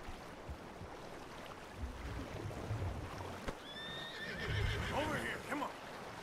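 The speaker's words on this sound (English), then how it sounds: "The horses are confused. We need to round them up." Horses neighing and snorting in the Red Dead Redemption 2 video game, a few whinnies rising over a steady outdoor background with soft hoof thuds, while voices talk at moderate distance.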